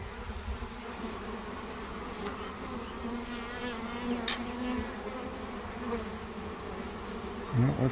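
Swarm of honey bees buzzing around a Russian Scion swarm catcher, a dense continuous hum close by with no talk.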